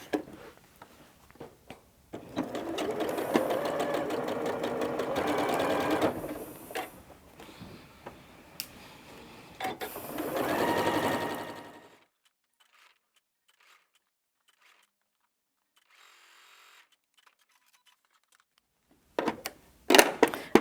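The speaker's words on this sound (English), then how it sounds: "we're going to take those to the machine and sew with a 1/4 inch seam" A sewing machine stitches a 1/4 inch quilting seam: a steady, close mechanical whirring with rapid ticking runs for several seconds, pauses briefly, resumes, then gives way to near silence before faint handling clicks.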